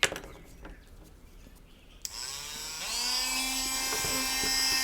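A rotary tool cuts a pilot recess into a handmade garfish swim-bait lure: after a quiet start, the motor spins up abruptly into a steady, high, close-up whine that holds to the end.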